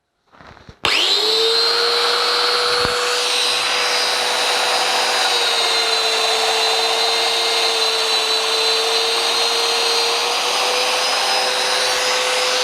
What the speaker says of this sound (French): pour vous montrer un peu comment ça fonctionne à l'intérieur du bois, on va faire une coupe